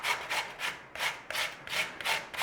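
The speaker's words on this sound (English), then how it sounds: "So it's a straightforward grate on a grater, you know." Raw potato is rubbed against a grater in a steady series of about eight rasping strokes, close and moderately loud with an even back-and-forth rhythm.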